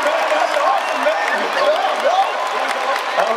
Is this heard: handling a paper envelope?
no